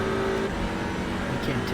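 Race car in the iRacing video game, an Audi RS3 LMS TCR at Road Atlanta, with another car running close behind; a steady loud engine drone fills the short stretch, and a voice talks over it.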